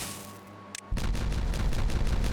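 Explosions from detonating in the beaver colony game Timberborn: after a brief quiet moment, a loud burst of rapid, crackling blasts begins and continues densely, like a rolling fusillade of small booms, with no voices.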